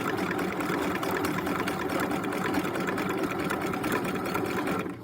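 Sewing machine back stitching fabric for an elastic wallet, a steady fast mechanical whir with rapid needle clatter, running evenly and close before stopping at the end.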